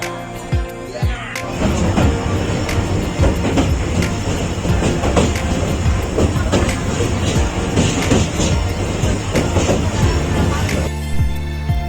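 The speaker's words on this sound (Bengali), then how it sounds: "তো ফাইনালি আমরা ট্রেনে চড়ে তো আমরা কুচবিহার স্টেশন থেকে রওনা দিয়ে দিলাম" A passenger train pulling out of Cooch Behar station and running on the rails, loud rhythmic clatter of wheels over rail joints building quickly after a quiet start and holding steady, with speech faintly mixed in.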